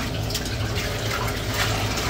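Nutrient solution mixed with enzyme and part B pours steadily from a jug into a tank at a commercial grow facility, a continuous, fairly loud splashing stream with no talking.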